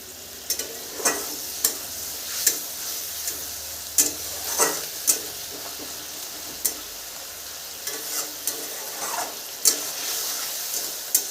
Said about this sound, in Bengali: শসাটাও দু দু সেকেন্ড কষিয়ে নিব